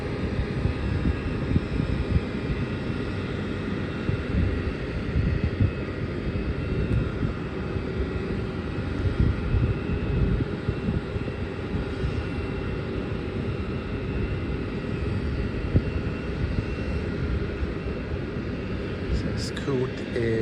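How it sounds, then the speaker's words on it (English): A Scoot Boeing 787 Dreamliner comes in to land at night, a steady, broad engine roar held for the whole stretch at moderate distance, with no speech over it. "Scoot is coming into land. Just about there. So that is on Boeing 787 or the Dreamliner."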